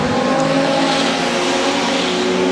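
Production sedan race cars roar off the start at Moora Speedway, a dense, steady wall of engine noise from a pack racing together, loud and continuous.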